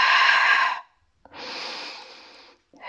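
Close, loud breathing during an abdominal and glute Pilates exercise: one long exhale, a short pause, then a second long breath, with a third just starting at the end.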